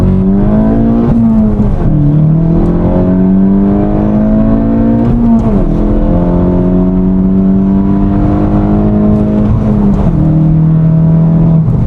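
Volkswagen GTI fitted with an Integrated Engineering sport muffler pulling hard through first to fourth gear, loud and close, its engine note climbing steadily in each gear with brief dips at the shifts.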